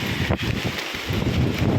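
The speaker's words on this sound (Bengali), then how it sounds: "উত্তল বাতাস প্রবল স্রোত" Strong wind buffets the microphone with steady, loud broadband roar and gusting rumble during coastal flooding in Bangladesh, continuous throughout with a brief dip midway.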